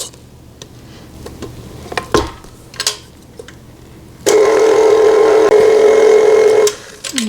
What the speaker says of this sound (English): Just scraping the sides and down in the bottom.